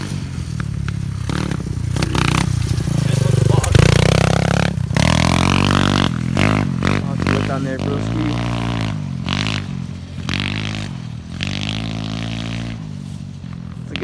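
A cold pit bike engine runs through a newly fitted aftermarket exhaust, loud and close, with rising and falling revs and a rough, crackling note.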